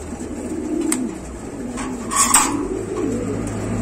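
Pigeons coo softly through a crowded pigeon-selling shop, low steady murmuring with a few brief brighter calls over a constant background hum.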